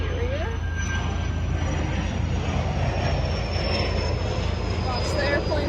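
A fixed-wing airplane passing overhead, a steady, loud engine roar and rumble filling the scene continuously, heard outdoors near a parked silver 2006 Bentley Continental Flying Spur.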